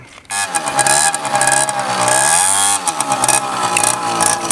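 A 2010 Yamaha Aerox Nitro scooter engine revs loudly and continuously at close range, pitch sweeping up and down as the rider accelerates and eases off.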